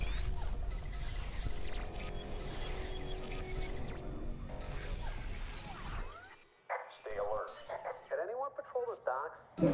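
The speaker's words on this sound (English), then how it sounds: "Alarm's gone off." Security alarm going off in the video game Watch Dogs, a loud repeating electronic tone over dense game noise and crashes, then cutting out into sparser sounds.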